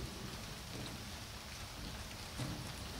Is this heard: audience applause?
no